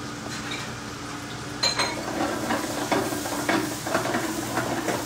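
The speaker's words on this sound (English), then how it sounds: "we're going to just add our our onions into that brown butter and just let them start caramelizing" Onions sizzle steadily in brown butter in a pan, a soft continuous fry that grows busier after a couple of seconds, with occasional stirring scrapes and light clinks of a utensil.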